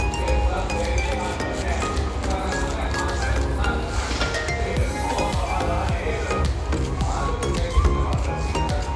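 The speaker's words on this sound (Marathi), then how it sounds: "इथे मी घेतलेलं आहे पॅनमध्ये तेल त्यामध्ये टाकलेलं आहे बारीक चिरून लसूण" Chopped garlic sizzles and crackles in hot oil in a pan for a vegetable dish, a steady close frying hiss with occasional stirring and light clinks of a utensil, while a voice talks over it.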